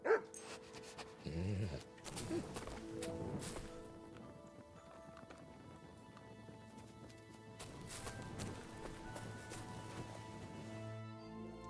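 Dog Mutt in Kingdom Come Deliverance II, heard among game sounds: clip-clop of hooves, a horse whinny and scattered barks over a steady ambient bed, with musical tones and a low rumble, moderately quiet.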